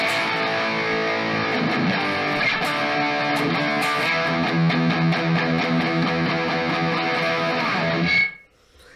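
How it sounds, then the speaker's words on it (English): A heavily distorted electric guitar played through a NUX Mighty Plug on its distortion setting plays sustained, dense chords with a thick high-gain crunch, ringing steadily for several seconds before cutting off abruptly. "Let me click on distortion 1 and see how this makes it sound."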